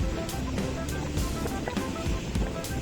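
Rough surf at a beach with strong currents, waves churning and crashing close by in a steady broadband roar, with wind buffeting the microphone and no talking.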